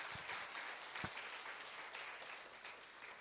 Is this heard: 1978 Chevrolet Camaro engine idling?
no